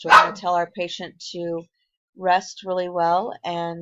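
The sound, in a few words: dog barking in the background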